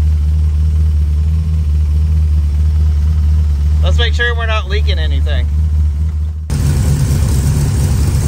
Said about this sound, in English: I cannot believe how quickly that just fired right up.